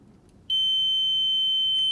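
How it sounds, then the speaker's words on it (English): A Volvo Penta TAMD74EDC marine diesel engine panel alarm test sounds after a short quiet moment: a loud, steady, high-pitched electronic horn beep that holds without break to the end. "Okay, so the horn works, the alarms work, all these functions."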